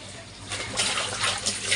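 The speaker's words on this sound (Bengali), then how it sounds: "এই যে জল এসে গেছে কলে, এই দেখো কত জল, দেখছো?" Water from a tap splashes and runs steadily while clothes are washed outdoors in hot weather, starting softer and growing louder after the first half second, with broadband rushing and no speech.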